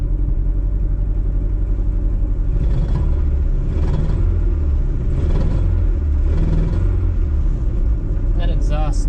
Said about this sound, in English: That exhaust is terrible.